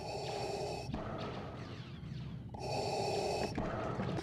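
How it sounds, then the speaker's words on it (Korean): Buzz Lightyear toy from a Toy Story film switching on and letting out a strange, mechanical Darth Vader-like breathing sound, a steady hissing inhale and exhale in two loud bursts separated by a quieter stretch, heard alone. "버즈가 작동하자마자 내는 묘한 숨소리는"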